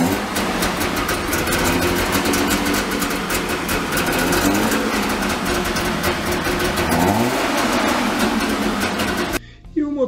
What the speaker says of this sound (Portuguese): Esse carro ele era bastante popular e conhecido pelo som característico e por ter aquela fumacinha também característica da queima do óleo dois tempos.